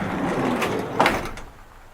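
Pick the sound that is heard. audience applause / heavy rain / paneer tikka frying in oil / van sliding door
van sliding door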